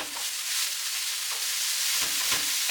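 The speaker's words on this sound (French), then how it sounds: "la cuisson de la viande, elle va prendre, quand elle est hachée comme ça, un gros bloc de viande hachée, ça va cuire assez vite" Minced ground beef sizzles steadily in a hot pan as a loud continuous hiss, with a few soft scraping stirs toward the end.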